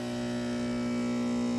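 A Gemilai 3200f/3200d espresso machine runs a back flush, its pump giving a steady, loud electric hum throughout with no talking.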